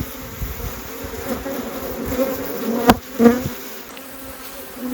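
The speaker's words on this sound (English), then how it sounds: "the bees are just hammering it" A steady, close buzzing of many honey bees swarming around a hive in an Australian bee yard, with a couple of louder thumps as bees bump near the listener, and no talking.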